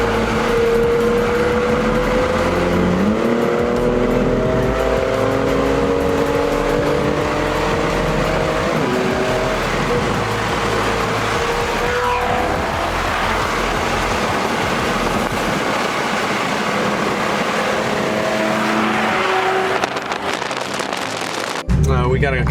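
Porsche Carrera GT and 918 Spyder supercars on a road rally roar past, engines rising and falling in pitch through gear changes with rumbling exhaust, heard from inside a moving car with people talking over it.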